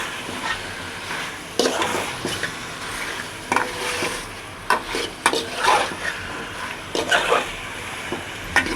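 Chicken meat with papaya stirred and sautéed in a pan, a low continuous sizzle broken by repeated spatula scrapes and clanks against the pan, close, with no one talking.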